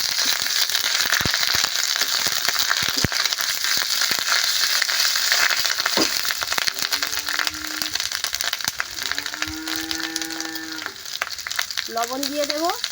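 Ginger and garlic paste sizzles and is stirred in a hot pan for a village-style prawn and taro leaf dish, a continuous loud frying hiss with scraping stirs and a few brief tonal squeaks near the end.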